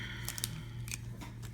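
A good pair of scissors snipping close by, with several quick, crisp cuts in an irregular rhythm over a quiet room and no talk.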